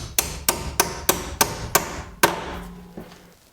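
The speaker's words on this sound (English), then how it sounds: "tap it in with a hammer." A hammer taps a bent door hinge pin back into place: six evenly spaced sharp metallic knocks, then a firmer blow and one faint final tap, close and clear with no talking.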